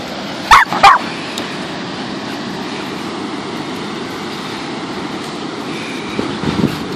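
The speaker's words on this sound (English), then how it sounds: "You're a crazy dog." A dog at Haystack Rock beach gives two sharp, loud barks close by near the start, then steady ocean surf and wind fill the rest, with a faint yip near the end.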